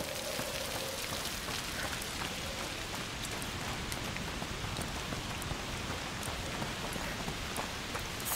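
Foul rain pours steadily in the video game A Plague Tale: Requiem, a dense, even hiss of falling drops with faint patters, continuous and close, without speech.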